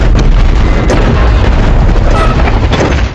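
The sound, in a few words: film explosion of bomb-rigged ambulance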